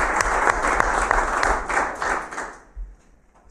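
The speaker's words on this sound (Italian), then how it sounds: "gli chiedo un applauso per lui," At a Casertana football club press conference, the room gives steady applause for Cesare Salomone. The clapping is moderately loud and continuous, then tapers off near the end.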